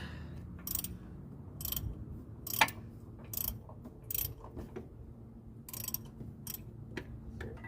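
Ratchet clicking in repeated short bursts while a cylinder head bolt is worked loose on a 1981 Ford Mustang 200 inline six, close and fairly quiet over low background hum, with brief pauses between strokes.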